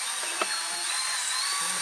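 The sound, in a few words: drilling through plate holes for Mazda Miata roll bar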